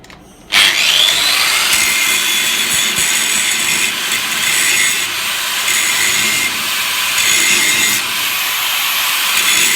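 An angle grinder bites into a metal weld, starting abruptly and then holding a loud, steady, high-pitched whine with slight dips in intensity throughout.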